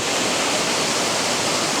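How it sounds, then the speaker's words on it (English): Kondilla Falls pours heavily after a massive rainstorm, a loud, steady broadband roar of rushing water with no pauses or other sounds. "I think that flow is going to be coming pretty good off the waterfall"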